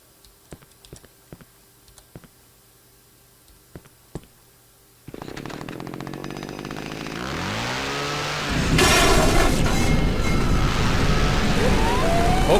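A chainsaw-wielding enemy in the horror game Cry of Fear roars into action after a stretch of faint clicking, its buzzing engine swelling louder and harsher and then running continuously and close.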